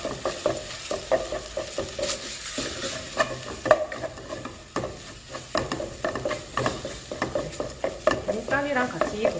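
Rice, meat and shiitake mushrooms are stir-fried in a pot, with steady sizzling and repeated scraping, stirring strokes of a utensil against the pot, close and moderately loud.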